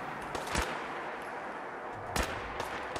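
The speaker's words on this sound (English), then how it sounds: "listen to those gunshots" Gunfire in the video game Fallout 4: a few sharp, loud shots spaced apart, two standing out near the start and late in the clip, over a steady bed of noisy game ambience with no talk.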